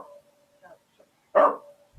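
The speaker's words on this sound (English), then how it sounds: "There's a dog in the background." A dog gives a single sharp bark in the background, faint and distant, amid near silence and a few soft low sounds.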